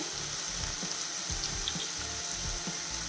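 Sliced onion and curry leaves sautéing in a pan for a chicken curry, a soft steady sizzle with faint scraping and crackle, no voice.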